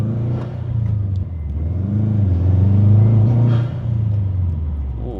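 Turbocharged manual car engine revving under boost, a loud close rumble that rises and falls through a couple of rev swells with faint whooshing on top.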